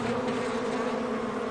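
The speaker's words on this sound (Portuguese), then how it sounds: "abelhas africanas, mais conhecidas como abelhas assassinas" Dense, steady buzzing of many Africanized honey bees, close and continuous with no pauses.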